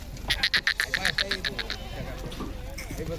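Goats on a farm bleat in a short series of nasal, quavering cries, close by, over a steady low background rumble.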